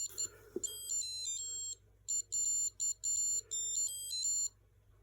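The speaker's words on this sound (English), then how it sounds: "push it all the way in, stops the alarm" A small wristwatch alarm from a box of broken watches goes off with a bright, high-pitched electronic melody, repeating in short beeping bursts with brief gaps, close and clear against a quiet background.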